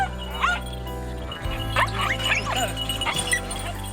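Labrador dogs give several short yips and whiny barks over a steady low hum, fairly quiet and spread across the middle of the stretch.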